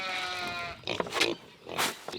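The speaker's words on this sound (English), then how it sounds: "the sheep are going ham over here" Sheep bleat loudly at feeding time in a backyard pen with goats and pigs nearby, one long sustained cry followed by several shorter, rougher calls close by.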